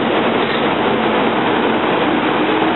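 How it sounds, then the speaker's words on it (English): A local passenger train pulls away from the Bethayres station, a steady loud rumble of rolling rail cars filling the whole stretch without pause or talk. "This little local train taking off now."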